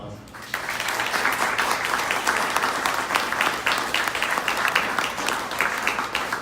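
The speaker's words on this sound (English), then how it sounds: "thank them with a round of applause" A hall audience at a Penn Hills council candidates' debate breaks into sustained applause. After a brief quiet start it holds steady and full for several seconds, close and dense with no pause.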